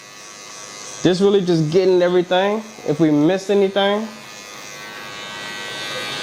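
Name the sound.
electric hair clippers cutting hair with guard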